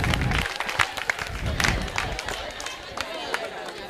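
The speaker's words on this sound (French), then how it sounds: "On applaudit." A classroom group at a workshop in Dapaong breaks into scattered clapping that swells briefly and then tapers into murmuring voices and chatter.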